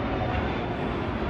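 A fixed-wing airplane passes overhead, its steady broadband engine roar loud and continuous throughout, with no talk.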